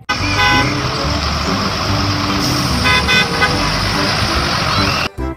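A toy school bus sounds its horn in a loud, sustained electronic honking tone that runs for several seconds before cutting off abruptly, followed by a brief final blip.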